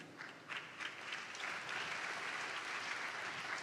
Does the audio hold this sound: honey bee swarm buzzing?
no